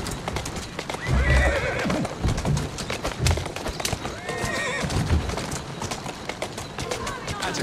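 Horse hooves clip-clop steadily while a horse neighs a few times in Assassin's Creed Syndicate, close and fairly loud, with a steady background bed underneath.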